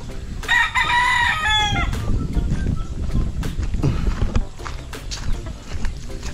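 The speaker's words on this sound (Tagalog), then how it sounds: "Ang dami niyang alaga ng manok dito." A rooster crows loudly nearby on a farm where many chickens are kept, one long cock-a-doodle-doo followed by scattered clucking and rustling from the flock.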